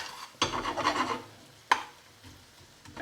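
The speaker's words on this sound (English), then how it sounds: "Fry that out for a little bit" A masala base fries in a pan for a tofu tikka rezala, with a soft sizzle and scraping stirs in two bursts, the first longer and the second a brief sharp scrape, then quiet frying.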